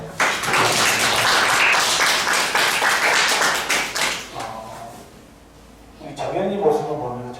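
A classroom group claps for a student who tidied the desks, a dense burst of applause lasting about four seconds before it fades, followed by a speaking voice.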